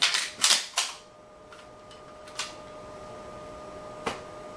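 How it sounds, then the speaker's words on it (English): Shotgun handled in dry practice for tactical reloads: three sharp metallic clacks in quick succession, then fainter clicks and one more crisp snap, close up against a quiet room with a steady faint hum. "So one of the main things that I'll practice is kind of doing what they call, you know, tactical reloads on the shotgun."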